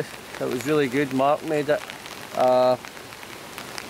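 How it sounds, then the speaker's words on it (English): Heavy rain pours steadily at a bushcraft campsite by Loch Tummel in Scotland, a constant patter underneath people chatting nearby, with a short droning tone cutting through near the middle. "as you can see, it's pretty heavy rain and we need to get packed"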